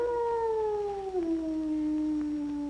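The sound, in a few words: dog howling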